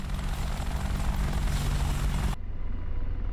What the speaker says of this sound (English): There we are on the ground in the Apache.